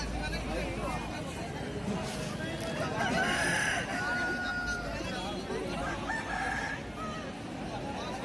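At an Odisha Aseel rooster market, a crowing call rings out amid clucks and the babble of nearby people talking.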